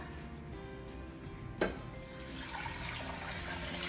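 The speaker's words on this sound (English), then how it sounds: "you're gonna cover it with water." Water running and splashing steadily into a pot of bones and vegetables for bone broth, with a sharp clink partway through and the flow growing fuller toward the end.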